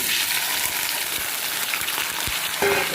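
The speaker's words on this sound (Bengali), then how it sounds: "এই যে আলু ভাজা করব তো তার জন্য তো আলুগুলো ছেড়ে দিই" Potatoes frying in hot oil, a dense continuous crackling sizzle close by, with an occasional utensil knock and no speech.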